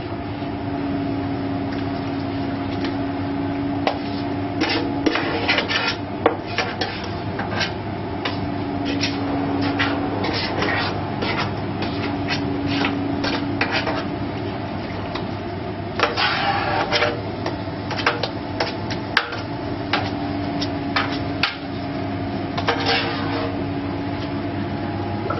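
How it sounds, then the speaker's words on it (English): Strawberry jam ingredients are stirred while the sugar dissolves in a Frima VarioCooking Center, a steady mechanical hum and whir broken by irregular clicks and scraping taps, moderately loud and continuous with no talking. "we're now being asked to stir our ingredients for our jam, which is what I'm doing now"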